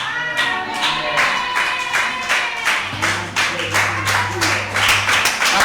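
A church congregation claps in loose, uneven rhythm, loud and close, with sustained low organ or keyboard tones and music sounding beneath the clapping.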